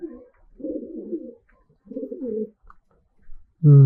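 A pigeon coos softly in a few low, throaty bursts, close and alone, with quiet pauses between.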